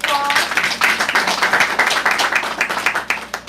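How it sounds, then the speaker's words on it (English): An audience at a barbershop talk-show gathering gives a round of applause, dense overlapping hand claps in a lively, fairly loud patter throughout. "Give everybody a round of applause"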